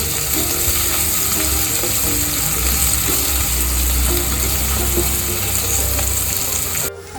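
Green chilies, crushed garlic and asafoetida sauté for cabbage bhaji, sizzling loudly and steadily in a pan with a dense, continuous crackle and occasional stirring scrapes throughout.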